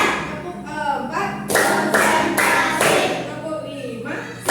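A teacher leads a clap-along counting routine to open a class lesson: a short run of loud, sharp hand claps in a steady rhythm, with spoken counting before and after.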